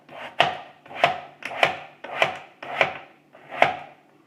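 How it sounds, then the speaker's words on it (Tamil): Potatoes are sliced with a handheld vegetable cutter in a home kitchen, producing six crisp, evenly spaced cutting strokes, close and clear, with no voices. "இந்த மாதிரி கட் பண்ணுறதுக்கு ரொம்ப ரொம்ப ஈஸியாக இருக்கும் இந்த கட்டரு"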